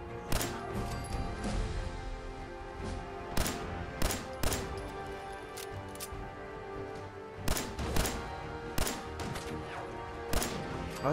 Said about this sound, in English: If you shoot them in the head, that does a lot of damage.